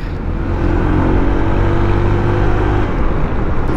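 Honda ADV 160 scooter riding along a road, its engine giving a steady, loud hum with wind and road noise, close and continuous with no talking.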